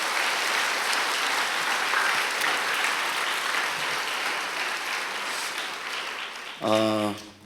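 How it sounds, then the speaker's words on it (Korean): A large church congregation applauds steadily for several seconds, a dense wash of clapping that slowly thins before a voice begins at the end. "격려의 박수, 축복의 박수 한번 부탁드리겠습니다"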